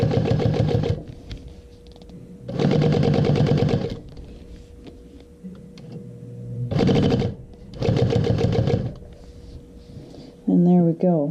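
A sewing machine runs in short, separate bursts of stitching with quiet pauses between them, sewing a seam in contrasting blue thread on a Clematis bag body. A voice speaks briefly near the end.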